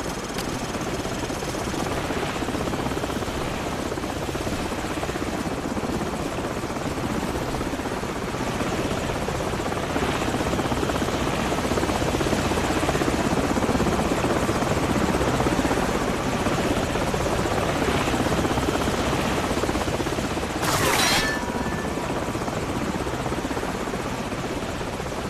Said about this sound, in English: Grab a Stinger and take out that chopper!